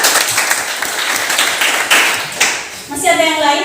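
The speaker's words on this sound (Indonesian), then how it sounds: "Oke, terima kasih. Tepuk tangan." A classroom of students claps together in a dense, steady burst of applause lasting a few seconds, then fades as a nearby voice begins speaking.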